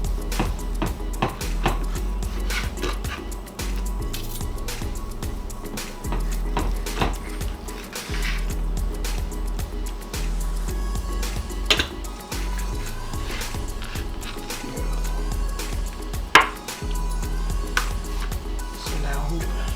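Knife chopping through coffee-rubbed steak into thick pieces on a board, a steady run of close, fairly loud thumping cuts with light clatter, while a voice talks over it.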